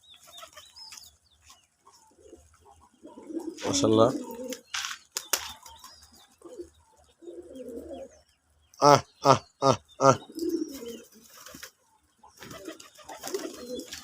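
White-breasted domestic running pigeons coo softly in the background of a pigeon loft. Someone talks over them and makes a quick run of loud, short calls.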